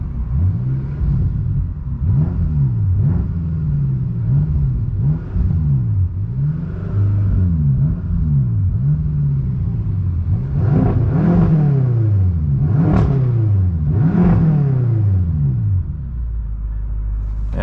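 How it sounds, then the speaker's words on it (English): A 2013 BMW M5 with a twin-turbo V8 revs in neutral, a string of rapid throttle blips that climb and fall one after another, growing louder and quicker near the end before settling back to idle. "that's the marvelous sound coming from that V8 twin turbo engine"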